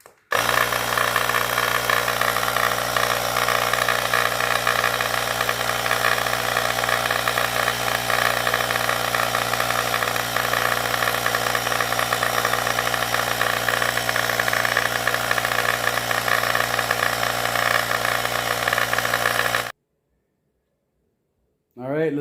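A Ferrex cordless air pump inflates a flat tire, running as a loud, steady buzzing drone with a rattling vibration for about twenty seconds before cutting off abruptly.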